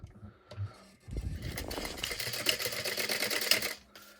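Sewing machine stitching a 2.5 inch fabric strip with a half-inch seam allowance, a short burst of rapid mechanical clatter lasting a few seconds after light handling sounds, close and moderately loud.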